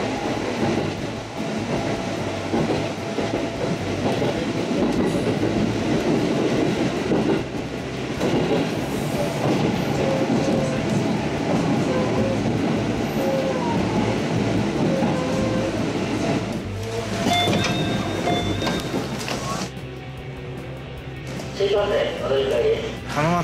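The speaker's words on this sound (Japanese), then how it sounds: "浜松から今度は豊橋行きの電車に乗ります。" Steady rumble and rattle inside a moving passenger train from Hamamatsu bound for Toyohashi, Japan, with rhythmic track clatter, brief squeals and people talking throughout.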